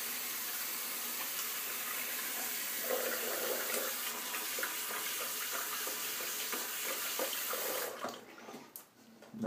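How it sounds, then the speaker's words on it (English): Tap water runs steadily into a sink as a badger shaving brush is rinsed under the stream, a continuous close splashing hiss that cuts off near the end, leaving faint handling sounds. "let me rinse this off real quick"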